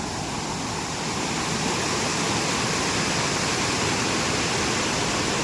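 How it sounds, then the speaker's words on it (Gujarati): A village waterfall pours in a steady, dense, unbroken rush of water, loud and close throughout with no other sounds. "કેટલો મસ્ત ધોધ પડે છે"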